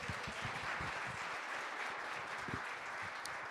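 Audience at a school district governing board meeting giving a round of applause, steady, moderately distant clapping throughout with a few sharper individual claps.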